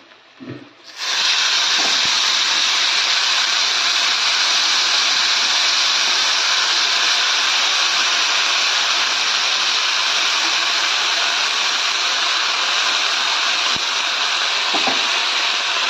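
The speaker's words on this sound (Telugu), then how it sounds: "ఈ పుదీనాని దగ్గరకు వచ్చేంత వరకు ఫ్రై చేసుకోవాలండి" Mint leaves fry in oil in a pan for a chutney: after a brief quiet moment, a loud, steady hiss and sizzle starts abruptly and holds evenly, with faint clinks now and then.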